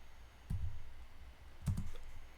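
Two quick bursts of keystrokes on a computer keyboard as a command is typed into a Linux terminal, each a short cluster of clicks separated by a pause, close and quiet.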